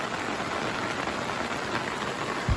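Rain falling steadily in the Samahni valley of Azad Kashmir, a soft, even hiss of drops pattering on surfaces throughout, with no voices.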